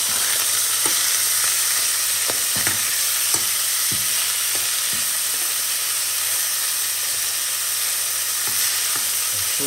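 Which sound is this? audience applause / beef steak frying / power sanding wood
beef steak frying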